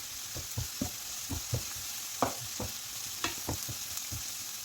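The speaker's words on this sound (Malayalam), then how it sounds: "ഉള്ളി വഴന്നു വരുന്ന നേരം കൊണ്ട് നമുക്ക് അതിലേക്കൊരു 4 പച്ചമുളക്, ചെറിയ പച്ചമുളകാണ്, കീറിയത് ഇട്ട് കൊടുത്തിട്ടുണ്ട്" Sliced onion and four small slit green chillies frying in a pan, with a steady low sizzle under repeated soft scraping taps of a spoon stirring, close and moderately quiet, no voices.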